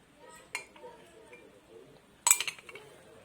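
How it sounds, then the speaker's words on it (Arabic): A spoon stirs a thick, pudding-like cold dessert mixture in a glass cup, with a couple of sharp clinks against the glass standing out over soft scraping, close and fairly quiet. "اقلبها كويس في الكوبايه"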